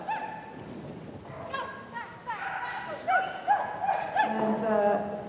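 German Shorthaired Pointer barking excitedly at a dog show, a rapid run of high, yelping barks and whines that grows busier and louder, with a voice talking underneath.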